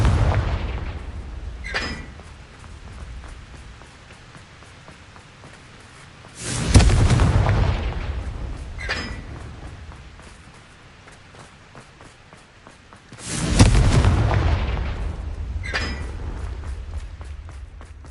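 Confringo blasting spells explode in the video game Hogwarts Legacy: three heavy, booming blasts about seven seconds apart, each fading slowly into a rumbling tail, with smaller sharp pops between them.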